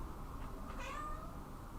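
A pet cat gives one short meow over a steady low background hum, fairly quiet and close.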